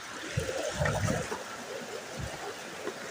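Water at Thombattu waterfall rushes in a steady, broad hiss, with a few low gurgles and splashes rising over it and no one speaking.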